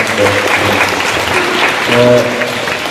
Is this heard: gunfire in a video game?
no